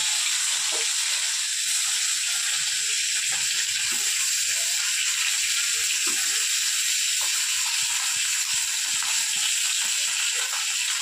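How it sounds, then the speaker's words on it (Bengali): Koi fish fry in hot oil in a wok for a Bengali tel koi dish. A loud, dense, steady sizzle and hiss continues throughout, with a few faint clinks beneath it. "এখন আমি মাছগুলো একটা একটা করে ছেড়ে দেব"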